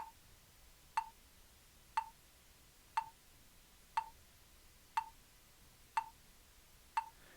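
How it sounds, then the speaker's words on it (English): A crisp, isolated metronome-app tick repeats steadily at 60 BPM, once per second, seven times in a row, clicking alone against near silence. "Got a metronome app on here."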